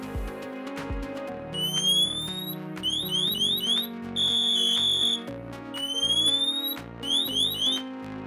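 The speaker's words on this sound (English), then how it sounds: "To test the manual activation of your pass alarm, press the yellow button on the AirBoss Sentinel." A Dräger AirBoss Sentinel PASS alarm, manually activated with its button, blares loudly in repeated bursts of rising electronic whistling tones over a pulsing lower beep pattern, with no talk.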